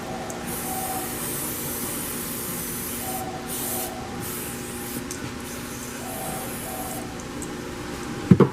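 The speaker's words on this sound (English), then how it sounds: "we spray your engine out brake clean" Brake cleaner hisses steadily from a spray can onto a car engine after an oil filter replacement, a continuous close spray with brief pauses and a couple of sharp knocks at the end.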